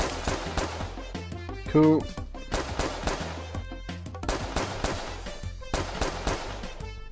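Rapid video game gunfire in Meteor 60 Seconds rattles in bursts over a music bed, with a voice speaking briefly over the shots.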